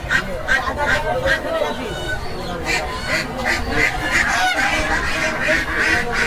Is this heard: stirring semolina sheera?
no